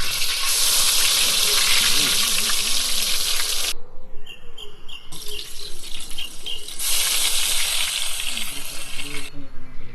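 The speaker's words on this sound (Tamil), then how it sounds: "இப்போ வந்து இஞ்சி பூண்டு பேஸ்ட்டு நல்லா சவக்கிற அளவுக்கு வறுத்துக்கிறோம்" Ginger-garlic paste frying in groundnut oil in a pan gives a loud, steady hiss that drops away briefly midway, then returns at full strength, with a voice faintly audible underneath.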